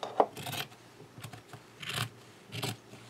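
Scissors cutting paper while making a calendar, a few faint, close snips and rustles spaced about half a second apart, heard alone in a quiet room.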